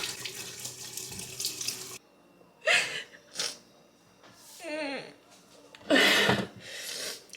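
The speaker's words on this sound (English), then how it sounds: "Scrubbing some of these potatoes because they're actually like dirty, like dirt." Dirty potatoes are scrubbed under a running faucet in bursts of splashing water and rubbing, with a voice speaking between the washing sounds.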